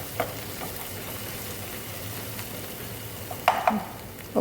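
Chicken masala curry frying in a pan gives a continuous, even sizzle throughout, with a few brief stirring scrapes and clinks partway through and near the end.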